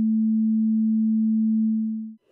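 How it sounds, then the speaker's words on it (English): A pure 220 Hz sine wave tone played from a website, steady and loud, holding for about two seconds before cutting off abruptly. "so instead I'm going to use a website to play a tone at a frequency of 220 Hz"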